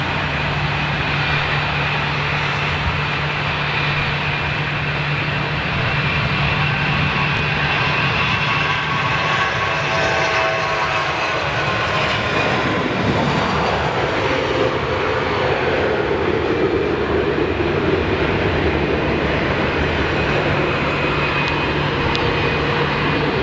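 A Boeing 747 on the Qatar executive flight, its engines roaring in a loud, continuous broadband drone that holds steady throughout with a faint whining tone above it, no voices heard.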